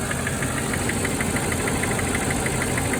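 A steady V8 engine idle with a rapid, rhythmic lifter ticking from the valvetrain repeating evenly over the rumble, heard up close.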